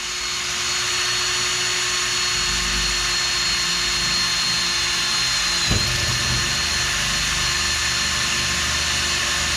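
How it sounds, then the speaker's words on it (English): A power drill bores straight down into a pontoon boat mount with a loud, continuous whirring drone close by. It runs steadily throughout, with a brief thump partway through. "Now I just want to drill straight down about 3 threads left."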